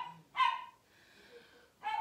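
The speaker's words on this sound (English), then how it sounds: "And I hear my dog barking out there." A dog barking outside, two short, sharp barks about a second and a half apart, faint and distant in an otherwise quiet room.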